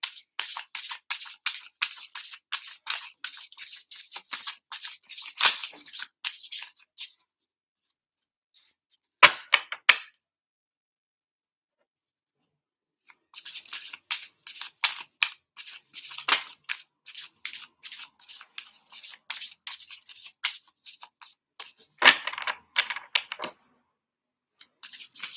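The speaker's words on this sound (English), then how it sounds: "One more shuffle for my Taurus" Tarot cards being shuffled in quick, dense bursts of papery riffling, with a long quiet gap in the middle broken by one or two isolated taps before the shuffling resumes; close and fairly loud with no talking.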